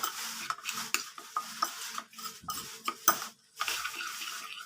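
A spoon stirs and scrapes through a liver mixture in a pan, giving irregular clinks and wet scraping strokes with short pauses, close and fairly quiet, no voices.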